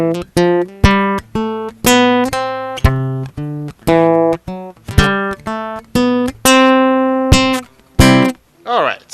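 Guitar solo with drums in a quick run of plucked notes, each struck sharply and cut short, steady and loud, ending on a brief wavering tone; no voices.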